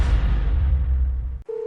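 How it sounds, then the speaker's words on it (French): A telephone call that goes unanswered: a low rumbling line noise fades over more than a second, cuts off, then a steady single-pitch ringing tone begins and holds. "Le téléphone de Chu Yongxi ne répond pas."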